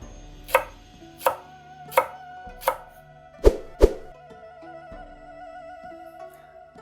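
A knife chops through leek on a cutting board while preparing sukiyaki, giving six sharp, evenly spaced strikes with the last two loudest, then quiet with a faint hum.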